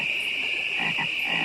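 Several frogs croaking in a dense chorus, a steady high trill with deeper rhythmic croaks pulsing through it toward the end, with no voices present.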